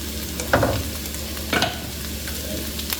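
Pepper stirred as it fries in a pot for a Cameroonian mbia recipe: steady close sizzle with two louder scraping stir strokes and a faint tap near the end, no talking.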